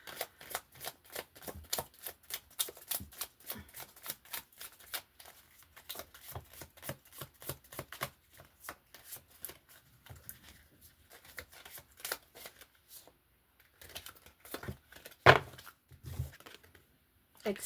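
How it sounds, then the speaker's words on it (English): A deck of cards is shuffled steadily during a spiritual card reading, giving a fast, close run of soft flicking clicks with a few louder knocks near the end. "so I'm just going to continue shuffling."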